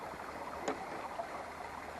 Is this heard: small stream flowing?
yes